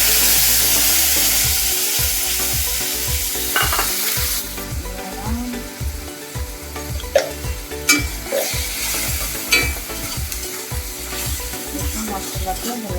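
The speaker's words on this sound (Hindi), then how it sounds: "तापर मसला पकेइबा।" Masala paste of ground mustard, cumin, garlic and dried chili frying in a pan, a loud steady sizzle with repeated stirring scrapes and occasional light clinks of the utensil.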